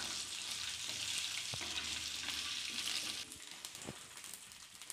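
Half a cup of peanuts sautéing in hot oil in a pan, a steady close sizzle with occasional stirring scrapes, easing slightly quieter near the end.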